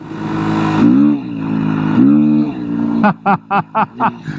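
A Beta 390 RS dirt bike engine revs up and down while riding through fall leaves. The engine is loud and close, rising and falling in swells, then ends in a few short, choppy throttle blips.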